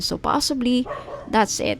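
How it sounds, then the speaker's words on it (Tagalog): Several house dogs bark and yip in short bursts close by, mixed with a person speaking. "so sorry po sa ingay ng mga aso ko"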